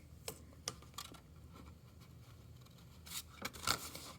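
Scissors snip through paper while a small gift box is being made: a few sharp, brief cuts spaced apart, then a quicker cluster of snips near the end, quiet and close with no talking.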